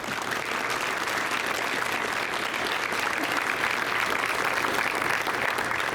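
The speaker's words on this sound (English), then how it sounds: "let's give them a round of applause." Applause for coaches at a South Sioux City High School senior athlete college signing event: steady, dense clapping from a crowd that holds at an even loudness for the whole stretch.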